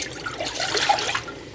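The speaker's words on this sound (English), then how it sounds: "I got my chicken broth right here. I'm gonna add it into the pot." Chicken broth is poured into a cooking pot, a brief, close liquid splash and trickle that runs for about a second and a half.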